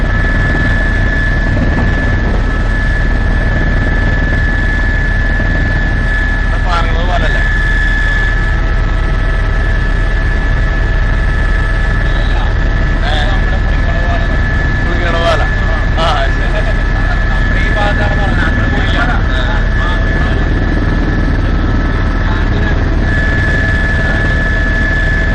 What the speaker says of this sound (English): let me invite you now for a live helicopter flight